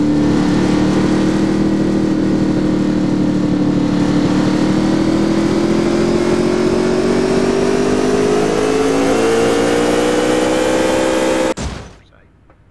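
A car engine revs hard and steadily in a racing video game, its pitch slowly climbing for about eleven seconds before cutting off abruptly, with a brief sputter as it dies.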